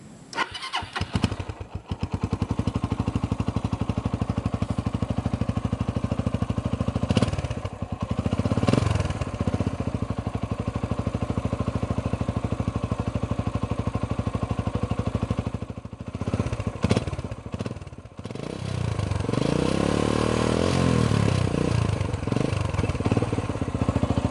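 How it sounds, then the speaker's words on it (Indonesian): A Suzuki Thunder 250cc motorcycle with a twin-port exhaust starts up after a few sputters, then runs with a deep, bassy, steady idle, with a rev-up near the end. "karakter suaranya ngebas ya, agak unik karena dia twin port knalpotnya ya."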